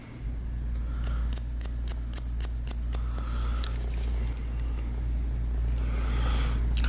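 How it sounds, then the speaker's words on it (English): Scissors point cutting and notching the top of the hair during a textured haircut: rapid, repeated close snips in quick bursts over a steady low hum, with no talking. "we're just gonna keep point cutting and notching the top"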